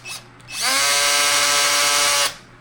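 An electric drill spins up with a rising whine and runs steadily for about two seconds before stopping, loud and close.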